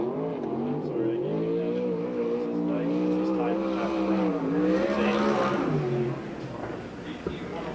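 A USAC/CRA sprint car laps the Perris track, its high engine roar rising and falling in pitch as it accelerates through the turns, heard under an announcer's talk.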